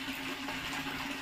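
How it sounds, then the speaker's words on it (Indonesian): Water is poured over smouldering rice husk charcoal to put out the fire inside it, giving a brief, close, steady splashing gush with a faint hissing edge. "Kita siram dengan air untuk mematikan api yang berada di dalam arang"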